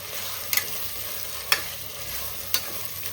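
Marinated prawns fry in a pan with a steady sizzle, while a utensil stirs and scrapes three times at roughly one-second intervals, close up and without speech.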